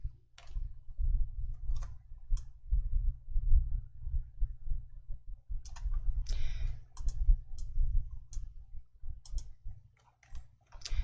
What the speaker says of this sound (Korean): 컨트롤 1 눌러주세요.